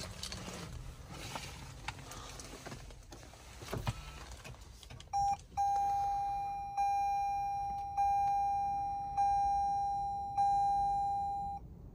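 Start-up chimes from a 2021 Toyota Venza Limited hybrid: a short beep, then a sustained electronic tone repeating in four or five evenly spaced pulses that each fade, heard up close inside the cabin after some quiet handling noise.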